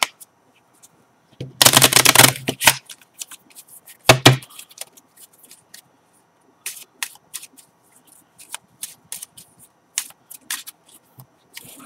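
Bicycle playing cards, a regular deck with jokers removed, shuffled in two quick riffling bursts, followed by scattered light taps and snaps of cards being handled, close and crisp with no talking.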